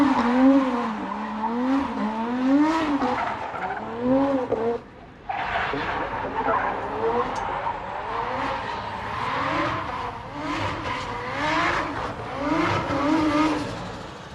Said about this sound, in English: Bit of a drift area set up here.